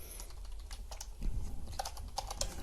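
Keys clatter on a computer keyboard while C++ code is typed, quick irregular taps close by with a few heavier keystrokes, and no speech over it.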